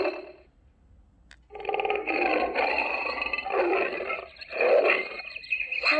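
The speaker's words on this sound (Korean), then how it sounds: "호랑이가 으르렁 으르렁" Tiger roar from a children's animal sound book, a short pause then a sustained growling roar in several rough surges, loud and close.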